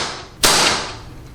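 A single sharp, loud impact as a slingshot-fired arrow strikes a target, a crisp crack followed by a brief fading ring, heard alone without talk.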